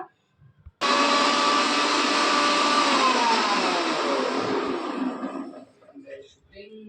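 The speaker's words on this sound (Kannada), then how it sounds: "ಒಂದು ಗ್ಲಾಸು ಇದನ್ನ ಮಿಕ್ಸಿ ಮಾಡ್ಕೋತೀನಿ ಇವಾಗ" A kitchen mixer grinder whirs loudly while blending mango with sugar and cold water, a steady close motor roar that starts abruptly, holds for several seconds, then slows and winds down.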